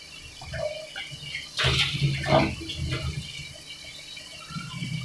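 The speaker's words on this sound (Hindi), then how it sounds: "थोड़ा सा पानी ऐड करूँगी।" A little water poured into turnip gravy in a cooking pan, a short splashing pour in the middle, moderately close, followed by quieter settling liquid sounds.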